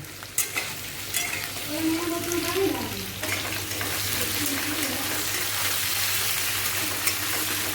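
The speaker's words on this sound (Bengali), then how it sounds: "এখানে মশলাটা ফ্রাই হয়ে গেছে" Spices and onions frying in oil for a prawn and spinach dish crackle in a dense, steady sizzle, with a few early scrapes and a faint murmur of voice in the background.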